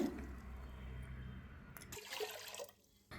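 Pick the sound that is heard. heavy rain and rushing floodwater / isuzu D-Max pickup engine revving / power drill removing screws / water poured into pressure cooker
water poured into pressure cooker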